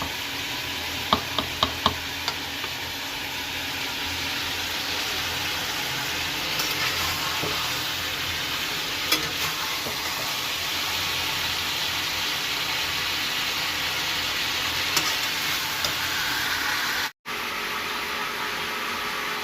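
Rui fish with winter vegetables cooking in a pan, giving a steady, close sizzling and frying hiss throughout, with a few faint stirring clicks near the start and a brief dropout toward the end.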